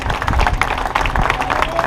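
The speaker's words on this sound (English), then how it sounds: "I want everyone to give a round of applause for those people." Applause from a beach crowd for the lifeguards at Imperial Beach, a dense, steady patter of many hands clapping close by throughout.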